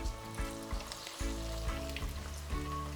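Chicken and pork fritters frying in hot oil in a wok give a steady, close sizzle and crackle, with brief bursts of bubbling as pieces drop in, no voices.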